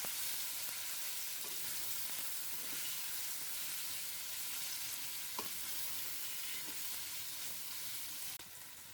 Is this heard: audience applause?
no